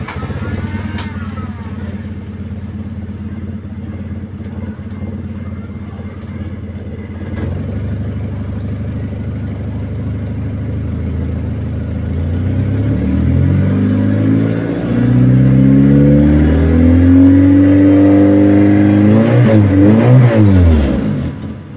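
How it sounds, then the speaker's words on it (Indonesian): Car engine started up in a workshop during sunroof electrical repair, settling into a steady idle hum before rising and falling revs build louder toward the end, close by. "Kita hidupin dulu mobilnya ya."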